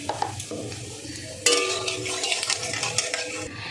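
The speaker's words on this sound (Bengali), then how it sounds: "জিরেটা ভাজা ভাজা করে নেব।" Cumin seeds tempering in hot oil in a pan for a potato and flour snack, a steady close sizzle that jumps louder midway as fresh seeds hit the oil, with light metal utensil clinks.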